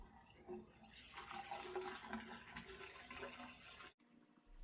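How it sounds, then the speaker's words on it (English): Kerosene poured into a container holding the action and parts of a Dutch Model 1871/88 Beaumont rifle for soaking, a steady close liquid splashing and gurgling that runs for about four seconds and then stops abruptly. "Then I'll fill it with kerosene."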